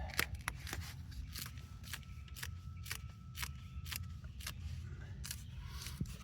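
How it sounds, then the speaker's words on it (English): Tape is pulled and torn from a roll and wrapped around insulation on an air-conditioning refrigerant line, giving a series of sharp ripping bursts at close range over a steady low background hum. "We'll take off our tape and wrap it."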